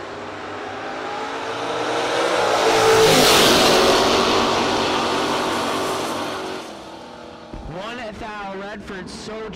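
Drag race cars, including a third-generation Camaro, launch with a loud engine roar that builds, peaks and fades over several seconds, followed by a quieter stretch where a voice talks over the background.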